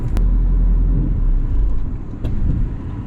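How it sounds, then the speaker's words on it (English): A Skoda Yeti 2.0 CR TDI 4x4 pushes along a muddy green lane off road, its engine giving a steady, loud low rumble with a couple of sharp knocks from the chassis. "Wow, I'm driving off road, mate, aren't I?"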